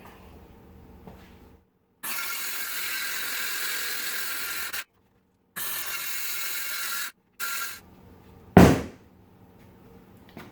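A panel for a subwoofer box is cut out with a power tool, in several loud, steady whirring bursts separated by short silences, ending in a sharp crack as the piece breaks free.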